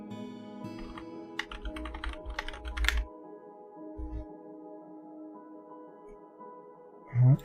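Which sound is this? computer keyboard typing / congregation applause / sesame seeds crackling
computer keyboard typing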